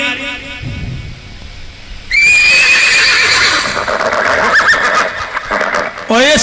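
A horse neighs loudly and close by, a shrill whinny with a shaking tail, over a lower rumble and possible hoof clops, and a second whinny rises near the end.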